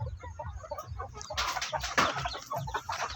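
A hen clucks repeatedly in a series of short, close calls, with a busier burst of clucking and rustling partway through, alone without speech.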